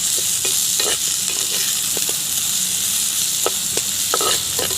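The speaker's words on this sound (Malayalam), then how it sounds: "ഇഞ്ചി വെളുത്തുള്ളി ഇടുകയാണ് ഉലുവ ചുവന്ന് വന്നിട്ടാണ് വെളുത്തുള്ളി ഇഞ്ചി ഇടുന്നത് സവാള അരിഞ്ഞിടുകയാണ്" Ginger, garlic and chopped onion fry in oil in a pan with a constant hissing sizzle, broken by a few sharp utensil taps and stirring knocks, close and fairly loud with no talking.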